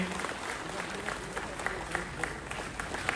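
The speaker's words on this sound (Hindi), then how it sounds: "जोरदार तालियां अपने हरदिल अजीज एलजी के लिए" Audience applause for the Lieutenant Governor at the Chinar Book Festival at SKICC in Srinagar, a short burst of indoor clapping with individual claps audible, partly under a voice.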